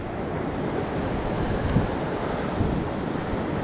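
Ocean waves break on the shore during winter sea bass fishing, a continuous close rush of surf mixed with wind buffeting the microphone, with no talking.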